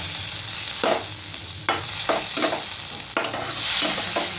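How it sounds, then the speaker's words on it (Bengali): Chopped tomatoes frying with golden onions in a pan, a steady sizzle broken by repeated spatula scrapes and stirring knocks at an uneven pace, close up with no talking. "এটাকে পেঁয়াজের সঙ্গে ভালো করে একটু মিশিয়ে নেব।"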